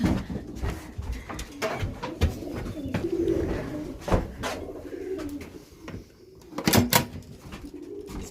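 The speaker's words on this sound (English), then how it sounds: "First pigeon in." A racing pigeon returns from a tough club race and coos softly at close range, the low calls mixed with wing flaps, taps and knocks from the loft, and no talk.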